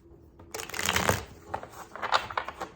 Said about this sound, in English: I'm gonna get a couple more shuffles because I had them all put in the right order.